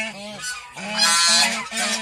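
Geese honk repeatedly at a goose farm where hens sit on nests to lay eggs, several loud nasal calls close by in bursts, alone with no talking.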